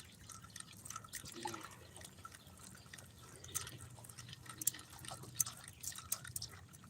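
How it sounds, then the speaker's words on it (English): A fishing bobber moves through lake water, giving soft intermittent dripping and sloshing sounds over quiet outdoor background, fairly faint and close. "I don't know if you guys can hear that bobber coming through the water."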